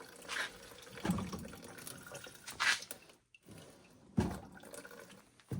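Old gasoline drains from the carburetor of a Toro PowerClear 518 ZE snowblower, a faint trickle and drip with a few louder splashy bursts up close.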